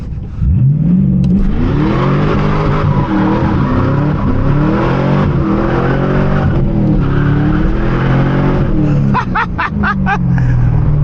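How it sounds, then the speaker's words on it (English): A Pontiac Trans Am WS6 muscle car with T-tops roars loud and close through a burnout, its engine revving hard with rising harmonic sweeps, tire squeal and skidding, then shifting near the end. "Will she do a burnout though?"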